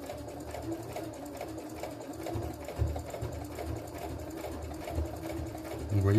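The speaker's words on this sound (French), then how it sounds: "sur les surépaisseurs comme ça, je préfère coudre un peu plus lentement pour ne pas faire de bêtises" A sewing machine stitches slowly through thick, layered fabric on a handmade bag, its motor humming in a steady, close whir that swells slightly near the end.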